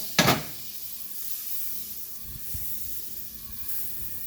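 Butter and Salisbury steak patties in a pan over medium heat: a sharp burst of sizzle at the start, then a faint steady hiss of frying with a few soft taps.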